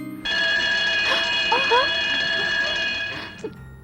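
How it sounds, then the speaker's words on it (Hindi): A loud, steady electronic alarm tone blares for about three seconds then cuts off, with brief voices or noises under it. "हीरा चुराने के लिए कोई अगर हाथ बढ़ाएगा तो अलार्म बज जाएगा"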